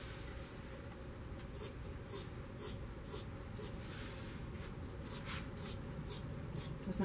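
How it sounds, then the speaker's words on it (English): Fabric for unlined curtains being cut along a ruler with a run of faint, evenly spaced snips close by, over a quiet steady background hiss. "on the fold and cut towards the edge of the ruler, and again until I've completed the full length of this"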